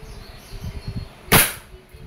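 A Crosman SR 357 airgun revolver fired single action: one sharp, loud crack, with some quiet handling noise beforehand.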